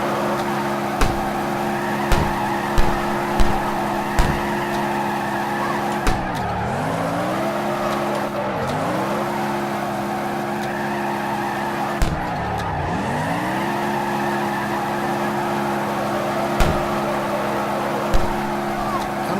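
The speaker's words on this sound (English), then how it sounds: "I'm doing my little like handbrake slide trick right there and it seems to be working pretty damn good" A car engine in CarX Drift Racing Online holds a steady, loud drone while the car drifts through handbrake slides. The engine pitch dips and recovers at each slide, with regular clicks over it and a voice talking throughout.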